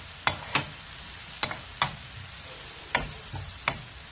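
Chopped onion, garlic and spices sizzling in a hot pan, a soft steady fry with sharp clicks and scrapes of a spoon stirring at irregular intervals, close and fairly quiet.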